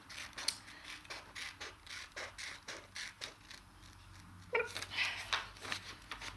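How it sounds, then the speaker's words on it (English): Scissors snip through paper while cutting out images for a handmade journal, a quiet, close run of short crisp cuts in an irregular rhythm, slightly louder toward the end. "I'm just going to cut my little..."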